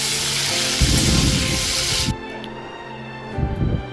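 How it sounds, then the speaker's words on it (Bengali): Ginger frying in hot oil, a loud spraying sizzle that cuts off sharply partway through, followed by quieter clatter and a faint background hiss. "এখানে আদাটাকে আমি প্রথমে তেলে ভেজে নিচ্ছি"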